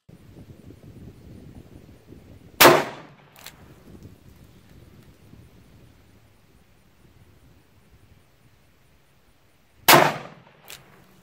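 Two sharp, loud gunshots from a snubnose revolver firing Federal .38 Special +P 125-grain jacketed hollow point rounds, several seconds apart, each with a short echo tail over faint outdoor wind.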